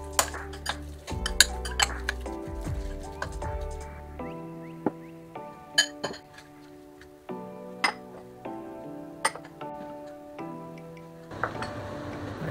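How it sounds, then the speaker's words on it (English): Chicken being mixed by hand with pepper, soy sauce and corn flour in a bowl, heard as repeated clinks and scrapes of utensil against dish with brief pauses, fairly close and moderately quiet. "Mix them well and leave it for 1 hour before we cooking."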